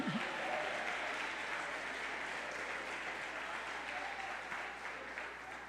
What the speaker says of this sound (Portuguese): Essa é a hora de aplaudir